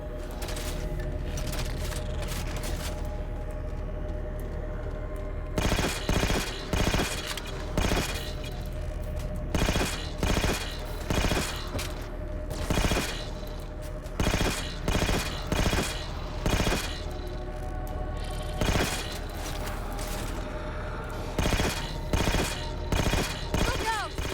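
Halo 4 gunfire in a firefight, repeated bursts of rapid automatic shots in loud clusters separated by brief pauses, close and dominant, with faint voices in the background.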